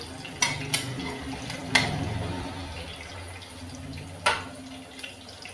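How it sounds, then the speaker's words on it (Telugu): Black gram lentils, mustard seeds and cumin sizzle softly in hot oil, with a few sharp pops and clinks of a spoon stirring against the pan. "తాలింపు దినుసులు మినపప్పు ఆవాలు జీలకర్ర వేసుకుందాం కొంచెం వేగనిద్దాం"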